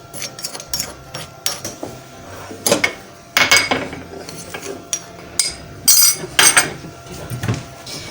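A spoon mixes cinnamon, ginger and other spice powders for Indian masala chai, giving irregular scraping and clinking against a small bowl with several louder bursts of stirring, close and without talk.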